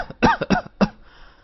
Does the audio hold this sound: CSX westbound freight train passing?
no